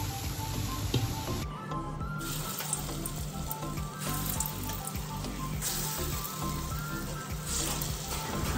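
Dry red chillies and mustard seeds sizzle in hot oil for tempering lentil dal, giving a steady, close crackling and frying hiss with scattered pops and no talking.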